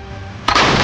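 An RPG rocket launcher is fired at a target with metal legs: a quiet lead-in, then a single sudden loud blast that stays as a sustained roar to the end of the short clip.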